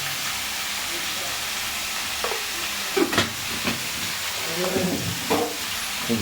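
Food stirred in a frying pan, several scraping strokes of a spatula over a continuous loud sizzle with hissing steam, close by.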